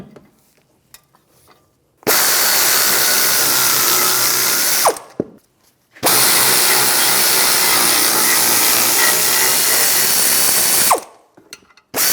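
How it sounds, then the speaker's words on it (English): Brake caliper bracket bolts on a 2011-2015 Chevrolet Cruze being removed with an 18mm socket, as two loud, close bursts of power-tool whirring, each lasting about three seconds and followed by a brief high whine as the tool stops. "Now we're going to take the caliper bracket off, take these two bolts out, use an 18mm socket."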